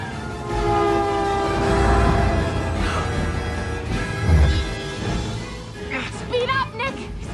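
An animated train roars closer in a scene from the Zootopia movie, a loud continuous rumble with horn-like tones that swells around the middle, while frantic voices talk over it.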